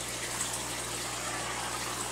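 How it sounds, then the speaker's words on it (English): An aquarium airstone bubbles steadily in a fish tank, stirring drops of clove oil into the water. It makes a continuous close hiss of fizzing bubbles with a low hum underneath, and no one speaks. "the airstone is going to mix it into the water"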